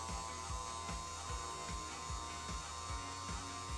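A car's power window motor runs with the ignition on, giving a steady mechanical hum with a regular ratcheting click about twice per second throughout.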